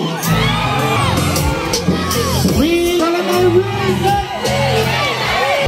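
Crowd at a live evening event cheering, whooping and shouting loudly and continuously, with an amplified voice calling out over the noise.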